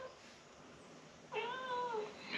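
A domestic cat meows indoors, one drawn-out clear meow of moderate loudness after a quiet stretch, followed by the start of another.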